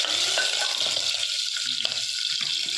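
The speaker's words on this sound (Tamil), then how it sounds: "கொஞ்சம் பச்சை மிளகாய் வேகட்டும்." Green chillies fry in a pan for rasam, giving a steady close hiss and sizzle with faint stirring scrapes and no voices.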